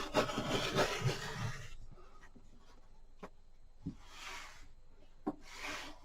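Quilt block fabric for a Coplin Square block being trimmed: a burst of close scraping, rasping cuts at first, then quiet stretches broken by a few sharp clicks and soft swishes.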